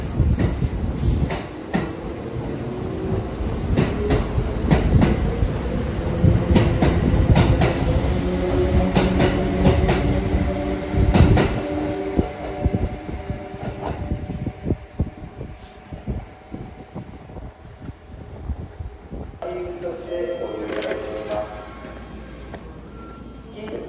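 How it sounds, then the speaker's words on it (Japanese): A Kintetsu train departs Kashikojima Station toward Ujiyamada, rolling with rhythmic wheel clatter and rumbling, wind buffeting the microphone, before the noise drops away near the end. "列車は賢島駅ですので、このまま宇治山田方面へ出発です"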